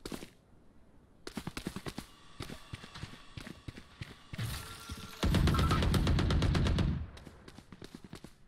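SMG gunfire in the video game Valorant, rapid bursts of shots in quick rhythmic strings, loud and close, with a longer sustained burst near the end.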